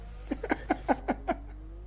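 A meow-like noise heard during a sim racing broadcast, a quick run of about six voiced, mewing yelps in a steady rhythm, close and fairly loud over a low hum.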